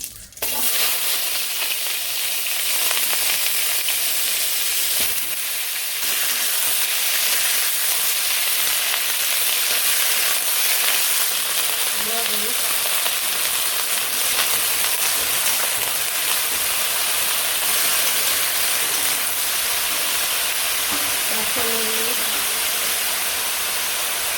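Vegetables frying in a pan with cumin seeds as a village cook prepares a fish curry, giving a steady, loud broadband sizzle and hiss that runs unbroken throughout, with faint clinks of stirring.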